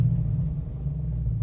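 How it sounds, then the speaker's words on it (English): Deep, steady low rumble from a 2019 Dodge Challenger Hellcat SRT Redeye Widebody idling close by, a brief continuous throb with slight pulsing and no revving or talk. "do you hear the rumble? The rumble of the car is so much different than the Hellcat. It is a pulsating rumble"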